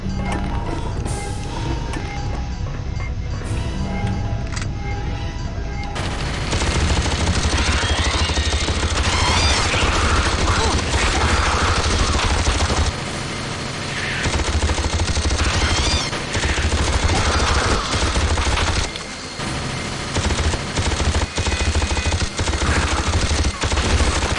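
Automated sentry turrets in Aliens vs Predator 2: Primal Hunt fire loud, continuous machine-gun bursts, a dense rattling barrage that intensifies after a short quieter start and keeps going almost without pause.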